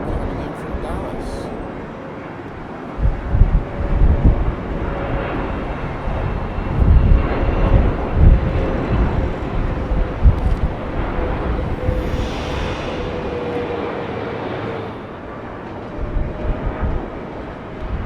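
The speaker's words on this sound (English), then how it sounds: "We have a Boeing 777-300 American Airlines coming in from Dallas." An American Airlines Boeing 777-300 comes in to land at London Heathrow, its engine rumble and rushing whine rising and falling with a faint tonal drone, while someone talks over it.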